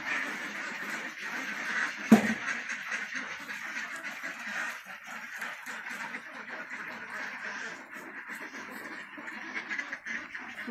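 A large flock of domestic ducks on a rural farm quacking continuously, a dense overlapping chorus at moderate distance, with a sharp bump near the start and a voice speaking briefly over it.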